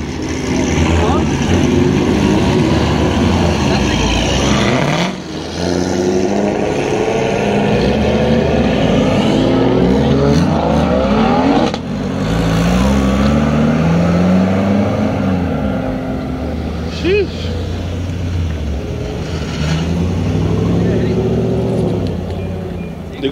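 Car engines rumbling and revving before a street race, a steady dense engine drone with rising and falling rev sweeps throughout, close and loud, with people talking over it.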